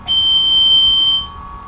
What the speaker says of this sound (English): A single smoke detector in the lavatory ceiling emits a loud continuous alarm